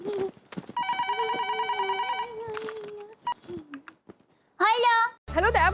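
A telephone ringing in a household comedy scene, heard as repeated bursts of electronic ringing tones, followed by brief tonal jingles and background sounds.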